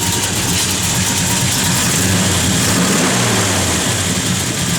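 A 1987 Chevrolet R10 pickup with a cammed engine idling nearby, a loud, steady, lumpy rumble with a choppy low pulse that holds throughout.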